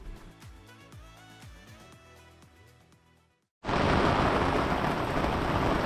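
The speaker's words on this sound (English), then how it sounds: "Today it is raining." Rain pours down on a sailboat moored in a Mallorca port, a dense, loud, continuous hiss that begins abruptly after a few seconds of music and carries on steadily to the end.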